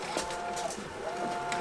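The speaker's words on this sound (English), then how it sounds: "So again, this is the printer that I'm using." An Epson sublimation printer prints on a roll. It gives a steady mechanical whir with faint thin tonal whines and soft repeated carriage movements, heard close with no one talking.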